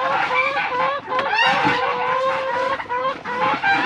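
Chickens cluck and squawk loudly and close by while being fed waste bakery bread, a busy overlapping chorus with one bird breaking into a crow.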